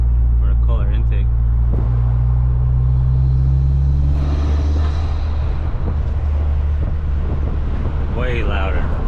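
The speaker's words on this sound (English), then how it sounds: "the intake sound is louder" Turbo intake whoosh and engine rumble from an 11th-gen Honda Civic fitted with a 27WON turbo inlet, heard loud from inside or near the car with heavy wind buffeting and people talking excitedly over it.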